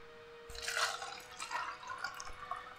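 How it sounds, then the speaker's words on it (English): Sour cherry fruit juice pours into a glass in soft, faint splashing bursts with a short pause between pours, over a quiet steady electrical hum. "me pouring some sour cherry fruit juice"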